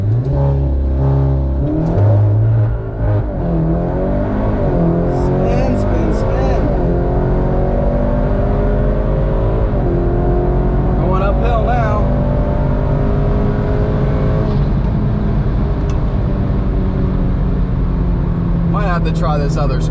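An Audi S3 with an EA888 engine launches hard and accelerates, its engine revving loudly and rising through the gears in long climbing sweeps, close and dominant for the whole stretch.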